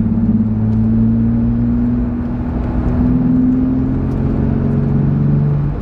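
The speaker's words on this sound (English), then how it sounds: "From an interior standpoint, I really hope you guys can hear that. Like, this is just mild acceleration." Inside a Jeep fitted with a new intake, the engine pulls under mild acceleration, a loud, steady low drone with tones that climb slowly.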